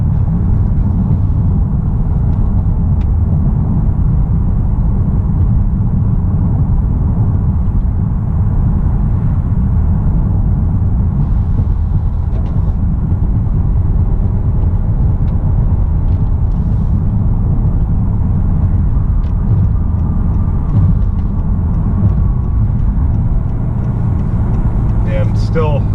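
A 2018 Honda Accord Sport 2.0T with a six-speed manual drives along, its engine and road noise forming a steady, low cabin rumble that holds evenly throughout.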